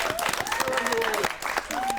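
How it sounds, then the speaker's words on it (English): Scattered audience clapping on a cooking show set, moderately loud, with people talking and laughing over it throughout. "Let's give him a clap."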